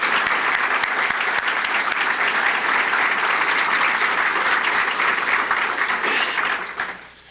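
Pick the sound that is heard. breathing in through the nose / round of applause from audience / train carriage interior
round of applause from audience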